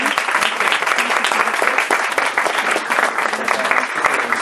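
A large audience at a short-film festival opening applauds steadily to welcome a guest on stage, a dense, even wash of clapping that holds for several seconds.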